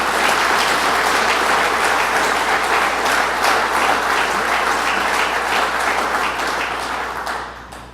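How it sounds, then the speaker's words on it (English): An audience applauds at the opening of a rebuilt fire station in Upper Jay, giving sustained, loud, even clapping that holds for several seconds and then fades toward the end. "Randy Douglas, let's give him a round of applause."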